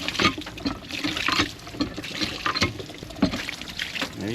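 Well water gushing steadily out of a pipe to flush it clean during hurricane preparations in North Georgia, a continuous splashing, bubbling flow close by with small surges throughout.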